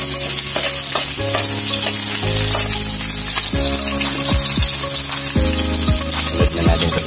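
Onions frying in a pan, a steady loud sizzle with stirring scrapes and clinks running throughout, near and close, with no voices.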